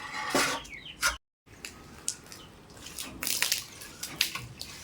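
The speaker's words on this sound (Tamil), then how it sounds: "இதுக்கு தண்ணி ஊற்றிட்டு இருக்கிறேன்" Water being poured at home comes in a few splashy bursts and trickles with a brief gap, fairly quiet, alongside faint bird chirps in the background.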